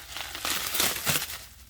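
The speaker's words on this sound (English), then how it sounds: "I'm not going to get defeated by some plastic wrap today" Plastic wrap crinkling and tearing off the packaging of a custom exhaust tip for a 2006 Ford F250 Powerstroke, a close, brief burst of crackly rustling.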